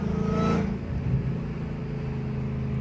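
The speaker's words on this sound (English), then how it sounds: "these downshifts are so fucking smooth" A Dodge Hellcat, running with no air intake, gives a loud, close engine drone with a brief rise in revs near the start, then settles into a steady lower rumble.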